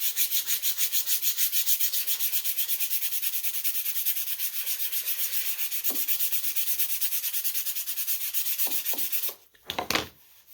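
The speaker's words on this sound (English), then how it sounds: "So what I'm going to do is I'm simply going to sand it flat." Balsa wood on a stabilizer platform is sanded flat with a steady rapid back-and-forth rasping, close and continuous, before it stops with a few soft knocks at the end.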